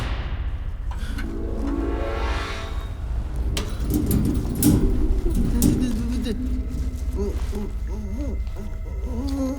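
A bird calls out in a short film, rising and falling cries over a rumbling background, with voices speaking around it.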